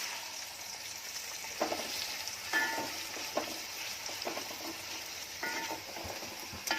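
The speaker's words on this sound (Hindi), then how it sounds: "इसमें जो चर्बी थी उसमें मैंने प्याज में ही फ्राई करने डाल दी" Onions crackle and sizzle as they fry in mutton fat, with a few scraping stirs and soft clinks, steady and close, no voices.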